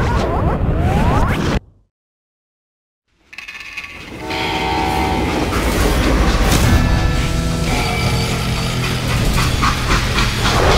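In the video game Call of Juarez: Gunslinger, a loud freight train horn blares, cuts to total silence, then heavy rumbling rail machinery and clanking carriages roll on steadily.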